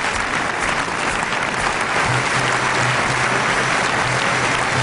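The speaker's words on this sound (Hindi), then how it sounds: "और बंद करो तालियां" Sustained applause from a crowd, dense and steady clapping throughout, with a faint low tone entering partway.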